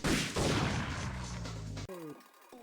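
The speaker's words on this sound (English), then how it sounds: "Desperation grenades, away!" A grenade launcher fires in Parasite Eve 2, with heavy, loud blasts at the start over a humming tone that cuts off abruptly, followed by quieter pitched electronic game tones.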